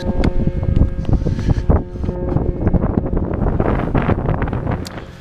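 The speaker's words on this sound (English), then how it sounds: "Some pretty gnarly winds started up overnight." Strong mountain wind in the Drakensberg buffets the microphone with loud, gusting roars and rumbles, steady and close throughout the whole stretch.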